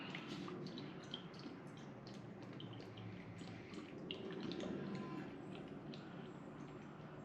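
Engine coolant pours into a Kawasaki Ninja 400 motorcycle as a steady, close liquid stream with a soft dripping, gurgling texture. The flow stays even throughout, with no talking.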